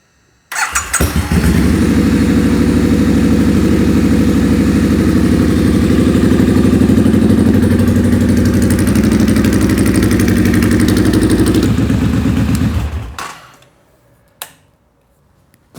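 A liquid-cooled Triumph Street Scrambler motorcycle starts after an oil change and idles loudly and steadily for about twelve seconds before cutting off, followed by a couple of faint clicks.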